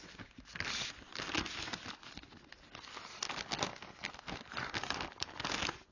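A plastic bag crinkles and rustles close up in a dense, irregular flurry of crackles as a clay coil pot is carefully placed inside it.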